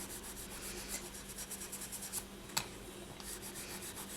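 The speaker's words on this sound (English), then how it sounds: "I'm being careful to only sand these outside areas" Soft, steady rubbing strokes from sanding the outer areas of polymer clay earrings, quiet and close, with one brief sharper scrape partway through.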